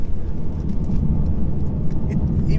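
A 2019 Mercedes C300's engine drones loud and close from inside the cabin as the throttle is stabbed, a dense, rumbling, continuous note with no voices over it.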